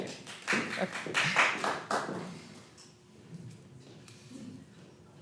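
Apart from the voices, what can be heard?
audience clapping at council meeting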